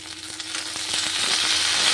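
Young papaya leaves with ginger and garlic fry in oil over a low flame, giving a steady, close crackling hiss that swells slightly toward the end, with faint soft knocks underneath.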